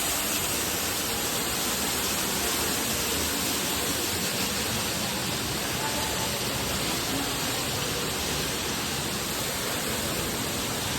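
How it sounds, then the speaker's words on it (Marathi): A waterfall with a temple inside it pours in a loud, unbroken roar of broadband rushing water that stays steady and close throughout, with no voices standing out. "हा धबधबा आहे त्या धबधब्याच्या आतमध्ये मंदिर आहे"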